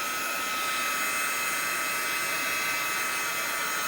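A handheld heat tool blows steadily to dry craft paint on a paper project, a constant loud whooshing hiss with no break, no talking.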